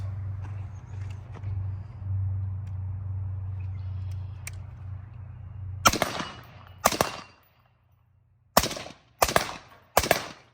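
An HK G36 rifle with a GSL silencer fires suppressed shots after a low idling rumble, five sharp, close reports spaced irregularly, some paired, with quiet between them.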